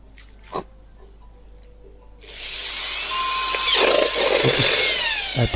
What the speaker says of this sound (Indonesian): Hati-hati dalam mengebor ya